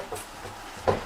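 A door shuts indoors with a soft thud, followed by a brief knock of the latch near the end, fairly close but muted under a low room hum.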